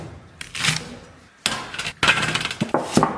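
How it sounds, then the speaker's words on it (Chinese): A kitchen knife chops scallion and ginger on a cutting board, several sharp, close knocks and clatters arriving in uneven bursts. "接下来咱们切点葱姜"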